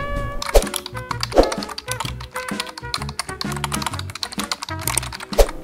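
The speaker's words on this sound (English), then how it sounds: "Mister, what are you typing?" Keys clatter in quick, irregular bursts of typing on a laptop keyboard, close and prominent, with a few sharper taps standing out over a busy background.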